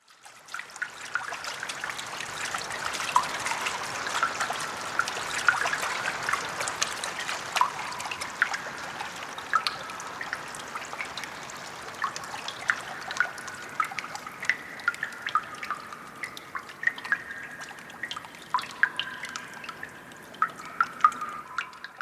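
Steady rain patters at first, then thins out into scattered, irregular water drips ringing close by as the shower ends.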